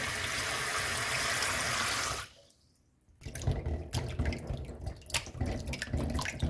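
Tap water runs steadily into a kitchen sink as fresh strawberries are washed for decorating a red velvet cake, then the flow stops briefly before uneven splashing and dripping resume as the fruit is handled.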